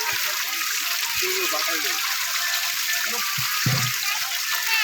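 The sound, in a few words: water splashed onto fish in a pond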